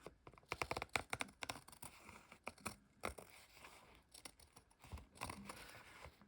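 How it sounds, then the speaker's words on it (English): Scissors snip through fabric overhang in quick, close, quiet bursts of crisp cutting clicks, irregular in rhythm with short pauses between cuts. "And then I will cut the overhang here off."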